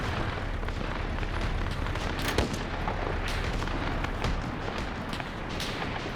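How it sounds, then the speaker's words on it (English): Anti-tank launcher fire and distant explosions in a military video game, a steady, heavy rumble of booms and blasts with a few sharper thumps, no voices. "We're hearing AT launches around as well."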